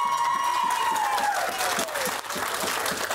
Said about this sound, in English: Can I get a clap for that?